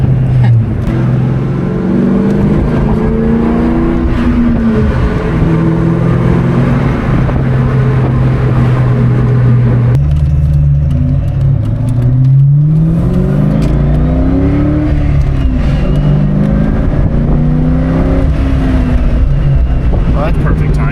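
A Ford Mustang Cobra accelerating hard on an 88-degree day, its engine climbing through repeated rising pitch sweeps as it revs up, loud and close, with a shift or lift near the midpoint before it pulls again.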